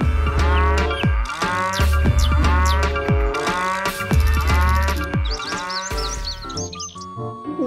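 A cow moos loudly and repeatedly in long, drawn-out calls, set amid a playful toy dinosaur scene with other sounds layered around it.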